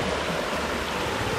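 The river at the Verdon in France flows steadily in a continuous broad rush of water, loud and close, with no voices.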